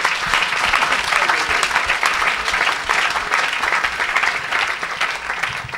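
A church congregation at an evangelistic service bursts into dense, continuous applause for Jesus, loud and close, holding steady throughout and fading slightly at the end.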